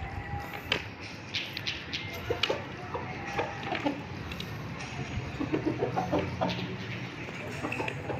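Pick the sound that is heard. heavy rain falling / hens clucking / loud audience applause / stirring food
hens clucking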